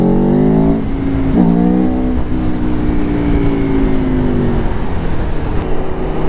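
A 2021 Aprilia Tuono V4 Factory motorcycle engine revs loud and close, its pitch climbing in repeated surges over a steady throaty rumble, with no talking.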